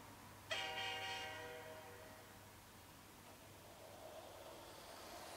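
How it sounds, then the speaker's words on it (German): A Lego Powered Up toy train gives a bright horn or whistle toot lasting about a second, then its motor settles into a steady, faint running whir over low background hum. "wir drücken auf Start, müsste es eine Sekunde lang hupen, bzw. pfeifen, und dann müsste er erst losfahren"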